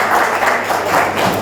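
Dense, continuous audience applause at a campus radio station's 21st anniversary event, loud and close, an even wash of many hands clapping throughout.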